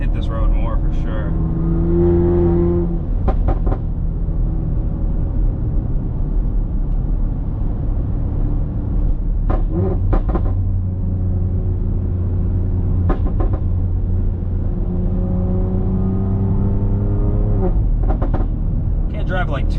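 A 600-horsepower BMW X3 M drives along a road with a loud, close engine drone. Several sharp exhaust burbles and pops break through as the revs change, and someone talks over it at times.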